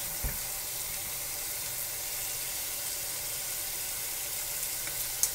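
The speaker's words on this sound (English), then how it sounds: "I'm going to try to rinse this kale and also prepare it for the air fryer." Tap water runs steadily into a sink while fresh kale is rinsed, a continuous broad hiss with no voices, holding at an even level apart from a couple of small knocks.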